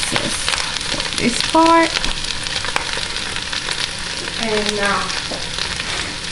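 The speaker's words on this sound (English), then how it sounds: "after you feel the roasting or the caramelizing, you have to constantly stir them" Thai-style halibut frying and caramelizing in a pan, sizzling steadily throughout while it is stirred, with a couple of brief scraping clinks and a short spoken phrase over the sizzle.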